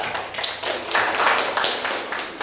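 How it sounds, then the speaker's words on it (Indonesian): A class of students claps hands together in a classroom, a dense, fairly soft burst of applause lasting a couple of seconds with little talk. "Tepuk tangan dulu untuk bisa"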